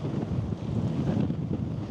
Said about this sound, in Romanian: Tare bate vântul aici.